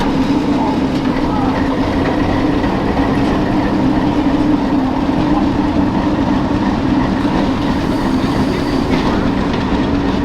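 The Nebraska Zephyr, a museum streamliner at the Illinois Railway Museum's Diesel Days, rolls along the main line with a loud, steady rumble and a constant engine drone, heard close and unbroken throughout.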